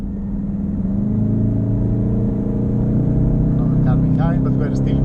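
Car engine pulling hard on the Nürburgring Nordschleife, a steady loud in-cabin drone and rumble that holds and builds as the throttle stays open, with a faint tyre or wind hiss near the end.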